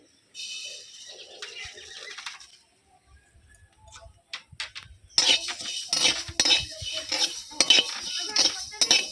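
Coriander seeds dry-roast in a pan for a sweet-sour-spicy mango pickle, heard as scattered clicks and light rattles that start sparse and quiet, then turn busier and louder as the seeds are stirred.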